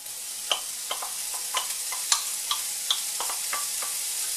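Bacon lardons drop into a pan with shallots and begin frying, a soft sizzle broken by scattered sharp pops and crackles, close and fairly quiet with no voices.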